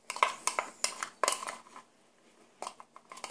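Tomato salad being tossed in a bowl with a utensil, a series of close, sharp clinks and scrapes in irregular bursts, pausing briefly before resuming.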